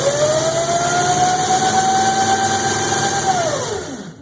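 A Power Wheels ride-on toy car's electric motor whines steadily on a homemade miniature dyno, holding a high, even pitch for several seconds before spinning down sharply at the end.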